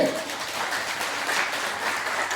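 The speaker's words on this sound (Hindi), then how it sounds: "क्या इनके लिए तालियां नहीं बजाएंगे?" Audience clapping at a gathering of a Jain samaṇ sangh as a woman is invited forward, a steady, moderately loud patter of many hands filling the space without speech.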